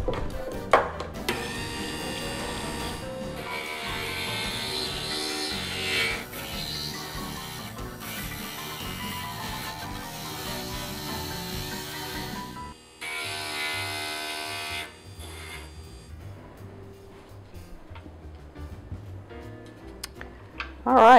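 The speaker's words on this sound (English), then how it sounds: "let's start grinding." A glass grinder runs steadily while shaping small mosaic glass pieces for a bow design, a continuous whirring buzz with brief dips and changes in tone as each piece is pressed against the grinding head.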